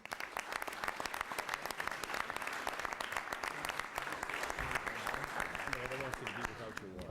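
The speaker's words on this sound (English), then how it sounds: "How about a round of applause one more time?" An audience at a city council meeting claps continuously, with scattered voices and some chatter mixed into the applause.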